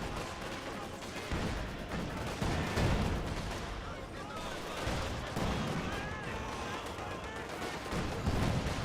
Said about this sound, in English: This gun firing away.